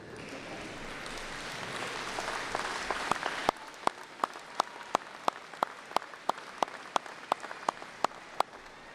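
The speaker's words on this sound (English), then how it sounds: "give them a big round of applause for all they have done for you" Audience applause at a 2019 high school graduation ceremony, a dense wash of clapping that thins after a few seconds into a few slow, sharp, evenly spaced claps continuing to the end.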